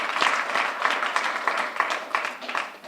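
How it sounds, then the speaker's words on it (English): A crowd claps at a press event at Arvest Ballpark welcoming the Naturals' new manager for the 2014 season; the clapping is moderately loud and uneven, with distinct sharp claps standing out. "So let's give a big round of applause."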